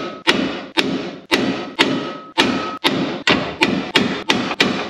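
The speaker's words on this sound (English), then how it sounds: "Let's put a jack under this thing and just give her a couple of whacks and see what happens." Ten heavy sledgehammer blows strike a car part held under jack pressure, landing in a steady rhythm about every half second. Each one is a loud, close metallic whack with a brief ringing tail, and no voices are heard.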